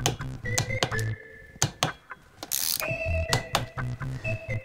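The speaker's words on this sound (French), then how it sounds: "on procède au serrage des 4 écrous en étoile toujours à la clé dynamométrique, à un couple de serrage de 18 Nm" A torque wrench ratchets as four nuts are tightened in a star pattern on a GY6 four-stroke scooter engine, producing bursts of sharp metallic clicks in quick runs with short pauses and a final click, close up and alone.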